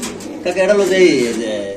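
A pigeon coos once, a soft throaty warble up close at a pigeon market, with a brief voice just before it.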